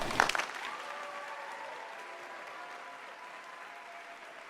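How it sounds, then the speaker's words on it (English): A school arts-weekend audience applauds the choir ensemble's seniors, a sustained, fairly soft ovation of many hands that starts with a sharper burst and slowly tapers off, with no talking. "I just want to give them a round of applause"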